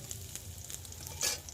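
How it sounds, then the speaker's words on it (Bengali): Jatka fish frying in a pan at home for a fish curry, a soft steady sizzle with faint stirring and a brief louder hiss near the end, close by with no talk. "জাটকা মাছ ভেজে রান্না করে নিচ্ছে আপনার ভাইয়া"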